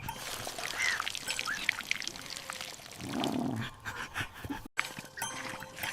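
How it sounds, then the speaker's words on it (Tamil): Water pours and splashes steadily for a few seconds, with dripping and faint outdoor sounds like birds and a dog in the background. "கண்ணா, செடிகளுக்கு தண்ணி ஊத்து."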